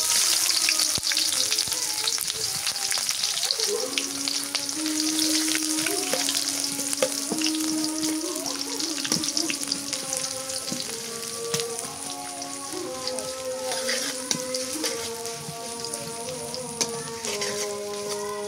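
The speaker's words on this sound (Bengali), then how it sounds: "পেঁয়াজ ভাজা হয়ে গেছে" Chopped onions and bay leaves fry in a pan with a steady, close sizzling crackle, while faint tonal music or background melody runs underneath throughout.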